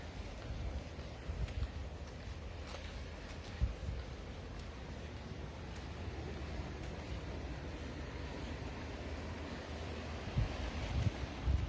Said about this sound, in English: I can hear the ocean